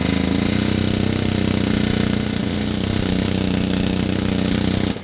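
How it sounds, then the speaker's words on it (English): Pneumatic air hammer driving worn pivot pins out of a Case IH Patriot sprayer boom, a loud continuous rapid hammering chatter held steady for about five seconds before cutting off. "I like to use an air hammer to drive these pins out."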